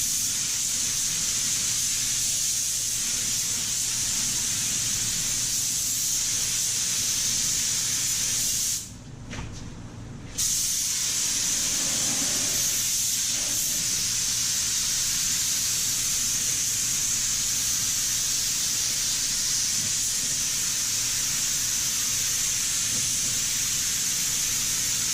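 A spray gun lays reduced paint onto a project in a long, continuous hiss that stops briefly partway through and then resumes just as steadily.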